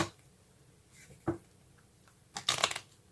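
Tarot cards are shuffled in a few quick riffling bursts, a short flick first and a longer crisp riffle near the end, close and fairly quiet.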